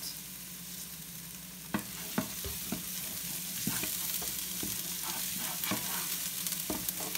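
Hot oil sizzles steadily as shrimp fry in a pan for black pepper shrimp, with sharp crackles and pops now and then over the constant hiss.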